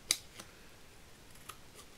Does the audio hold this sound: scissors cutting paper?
yes